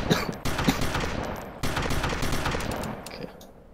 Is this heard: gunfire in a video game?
yes